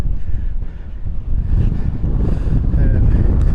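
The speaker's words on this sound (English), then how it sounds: "I hope you can hear me because the wind is horrific." Strong gusty wind on an exposed coastal hill hike in North Wales batters the microphone with loud, low rumbling buffets that swell and ease over a few seconds.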